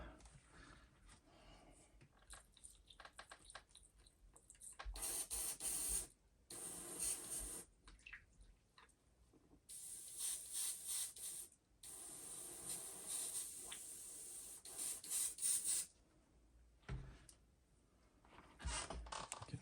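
An airbrush being cleaned out after spraying a custom paint finish on a pewter sunfish, giving repeated bursts of sharp hissing spray separated by brief pauses, close and fairly loud with no talking.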